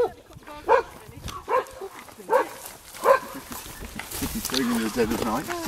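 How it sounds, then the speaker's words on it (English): Several sharp dog barks come in a quick series, followed by excited yips and whines while people talk nearby, in Portugal. "we have dogs with us, and of course, all the dogs are getting excited"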